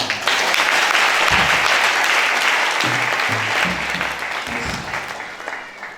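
A church congregation applauds loudly and continuously, a dense wash of clapping that swells early and slowly fades toward the end, with some voices cheering underneath.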